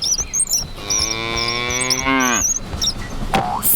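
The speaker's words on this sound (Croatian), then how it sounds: "Krava." A cow gives one long, drawn-out moo, loud and close, over a steady soft background, followed by a brief higher chirp near the end.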